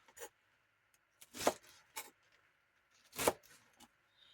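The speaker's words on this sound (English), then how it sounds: "what I'm going to do is just chop them up" Garlic leaves and stems being chopped with a knife on a clean work surface: a handful of sharp, separate cuts spaced irregularly, close up and fairly quiet, with no talking.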